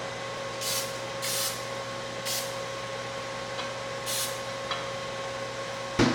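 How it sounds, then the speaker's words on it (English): Several short hissing bursts of coconut oil spray onto food come at irregular intervals over a steady electrical hum, close by. "Spraying these with coconut oil."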